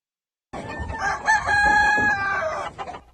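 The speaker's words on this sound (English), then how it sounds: "filled with roosters from last weekend's cockfighting ring bust." Caged roosters rescued from a cockfighting ring bust crow and cluck together in an enclosure, a dense, loud overlapping chorus that starts abruptly after a brief silence and continues without talk.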